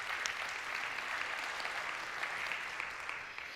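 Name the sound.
audience applause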